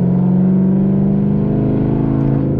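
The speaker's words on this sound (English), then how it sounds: "the car just got so loud, so I shifted" A Chevrolet Camaro ZL1's engine roars loudly and steadily from inside the car, a sustained deep droning rev that holds with little change in pitch.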